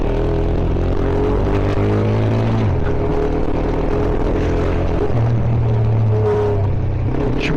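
A car climbs a steep hill on loose gravel in a forest, with a steady loud engine drone whose pitch shifts with the throttle under a continuous rumble and crunch of tires.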